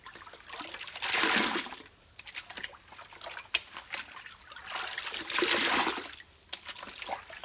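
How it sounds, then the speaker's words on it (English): A human hair wig is swished through soapy water in two surges of sloshing and pouring, each about a second long, with quieter trickling and dripping in between, close by. "you're running that soapy water through it"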